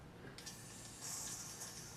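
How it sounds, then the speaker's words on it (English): Airbrush spraying magenta paint thinned with a few drops in the reservoir: a steady hiss rising sharply about halfway through and holding, close and fairly quiet. "Now I'm going to spray it through it"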